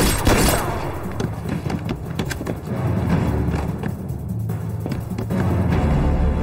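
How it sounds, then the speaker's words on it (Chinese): A burst of close, sharp gunshots rings out in a tense drama scene, several rapid cracks and thuds clustered early and scattered through a few seconds of rumbling ambience. "这开枪来真的！"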